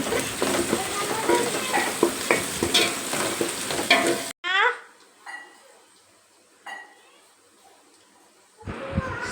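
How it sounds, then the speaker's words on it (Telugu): Onions and chili powder fry in a pan for biryani-style cooking, a loud close sizzle with scraping stirs for the first half, then quieter spaced clinks and stirring strokes over a soft hiss. "ఆనియన్స్ అయితే దగ్గర పడ్డాయి కదా, అందులోనే కారం వేసుకున్నాను."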